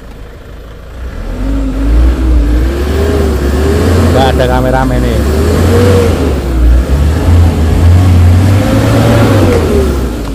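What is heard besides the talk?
Hyundai Starex diesel engine revving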